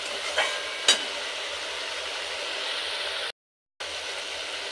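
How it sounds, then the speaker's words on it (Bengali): Spice paste (masala) for a potato and shrimp kosha sizzles steadily as it is sautéed in a pan, a continuous soft hiss broken by a couple of sharp utensil scrapes early on and a brief cut to silence. "মশলাটা আবারও কিছুক্ষণ খুব ভালো করে কষিয়ে নেব।"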